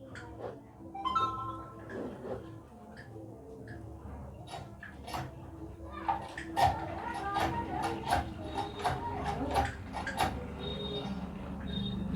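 A sewing machine stitching a blouse, with quick mechanical ticking and clacking in uneven bursts, close up and moderately loud, over a low hum.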